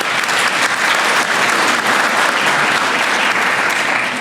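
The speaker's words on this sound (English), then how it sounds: "please give them a round of applause" Loud, steady applause from an audience at a small business recognition awards ceremony, a dense wash of clapping that holds evenly for the whole stretch without letting up.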